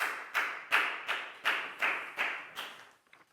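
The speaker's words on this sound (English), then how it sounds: "Big round of applause for Nadia, guys." A small classroom group claps for a student, seven or eight clean bursts of applause at a brisk, even pace, close by and moderate in volume, fading out at the end with no talking.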